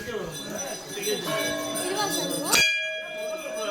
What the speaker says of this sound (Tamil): எல்லாருக்காக நான் ஒரு மணி அடிக்கிறேன்